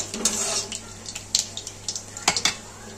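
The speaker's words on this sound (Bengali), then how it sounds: "তেল গরম হয়ে গেছে, ফোড়নে দিয়ে দেবো কালো জিরে, ফোড়নটা একটু ভেজে নেব।" Black nigella seeds sizzling in hot oil in a pan as a tempering for Bengali aloo posto, a steady crackling fry broken by quick bright pops and stirring clinks, close and without talk.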